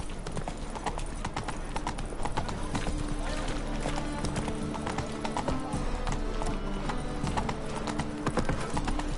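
Roach, Geralt's horse in The Witcher 3, trotting with dense, steady clip-clop hoofbeats and occasional snorts over game ambience and music.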